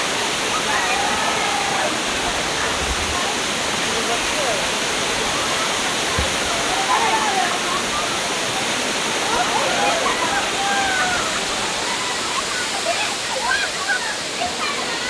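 Panval Waterfall in Ratnagiri roars steadily and loudly nearby, a constant rushing wash of falling water that masks everything else and stays unbroken throughout.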